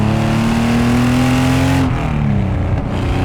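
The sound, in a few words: RWB Porsche 930 engine accelerating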